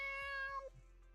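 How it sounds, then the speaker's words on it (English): A stray cat in a video game lets out a single drawn-out meow, clear and close, with a short lower trailing note and no talking. "Purring stray cat slowly walks out the alleyway."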